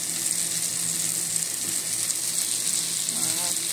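Mushrooms frying in a pan for fried pork chops with bell pepper, a steady close sizzle with broadband hiss running continuously and a few faint stirring scrapes.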